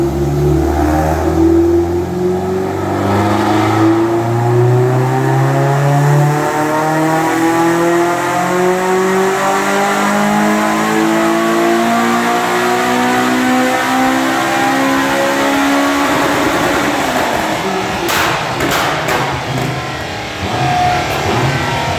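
A Peugeot 205 GTI with a stock bottom end revs hard and loud, its engine note sweeping up repeatedly toward an 8,600 rpm limiter, close and alone for over twenty seconds before a harsh crackle near the end.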